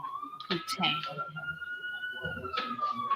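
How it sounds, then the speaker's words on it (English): A siren wails steadily in the background, its rising and falling tone running throughout while people talk over it. "do you hear the siren?"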